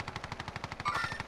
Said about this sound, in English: they're shooting at me now